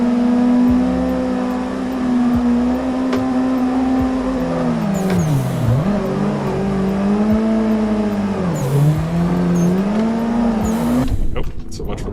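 A game car has its tires warmed on a circuit in Assetto Corsa, drifting mods. The engine drones loud and steady, its pitch dipping and rising twice as the car swerves, with brief tire squeals.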